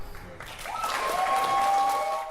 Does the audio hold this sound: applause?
yes